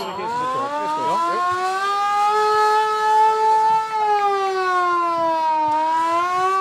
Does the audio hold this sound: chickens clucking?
no